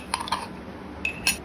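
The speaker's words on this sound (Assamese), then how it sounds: "এতিয়া মই এখন কেৰাহী লৈ লৈছো" A metal wok (kadai) is handled in a home kitchen, giving two clusters of short bright metallic clinks and knocks, close and fairly quiet, with no talking.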